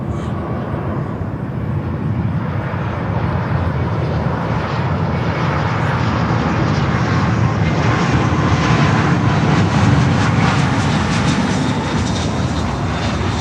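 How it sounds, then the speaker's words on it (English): An American Airlines airliner comes in to land at Fort Lauderdale, its engine roar rising steadily and loudly over about thirteen seconds as it passes fairly near, with no talk. "there's the next inbound coming in. American Airlines."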